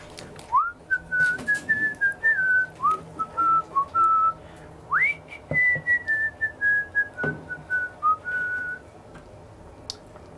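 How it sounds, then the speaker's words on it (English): A person whistles a song melody alone in a series of clear, sustained phrases with brief pauses, close and fairly loud, with no talking. "You whistle the song again."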